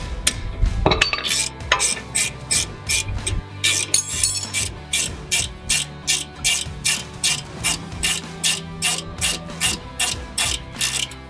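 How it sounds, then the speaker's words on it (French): A ratchet wrench loosens the two 14 mm brake caliper bolts on a Subaru Legacy: a steady, close run of sharp, evenly spaced ratcheting clicks with metallic clatter, and no talking. "Donc on va déjà commencer par déposer l'étrier. Donc il tient avec deux vis de 14."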